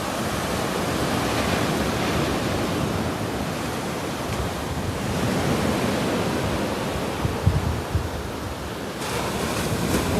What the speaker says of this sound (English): look at them waves, they're whacking the rods now.